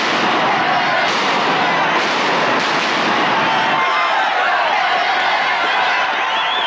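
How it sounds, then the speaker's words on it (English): Gunfire crackles in a crossfire amid a rolling crowd, dense bursts of sharp pops running continuously under the roar of many voices. "He's caught in the crossfire of bullets."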